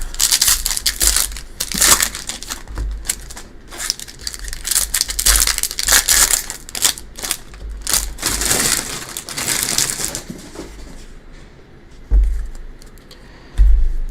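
Paper packaging from 2021 Bowman hobby baseball card packs crumpled and crushed close to the mic, a dense run of crackling crinkles for about ten seconds, then quieter handling with a couple of sharp thumps.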